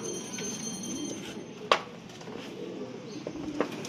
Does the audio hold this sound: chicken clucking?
no